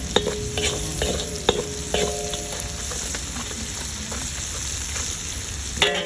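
Onion and garlic sauté in a frying pan, a continuous crackling sizzle broken by sharp metallic clicks and scrapes of a utensil stirring against the pan, close and with no voices.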